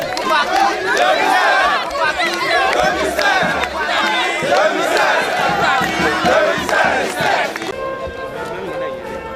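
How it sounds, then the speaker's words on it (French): A large crowd of thousands gathers outside a handover ceremony at the Prime Minister's office, cheering and shouting in a loud, dense, continuous roar of mixed voices that quiets toward the end. "C'est une foule qui l'attendait à la sortie de la cérémonie de passation de charge."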